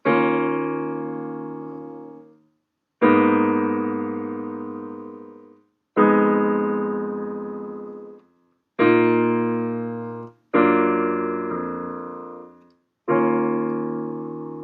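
A piano plays a repeating chord progression, each chord struck and left to ring out and fade before the next, alone and clear.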